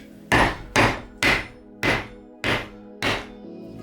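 Hammer knocking parts into place while building a homemade electric fishing-line winding recycler: six evenly spaced, solid, close strikes with short gaps between them and no talking.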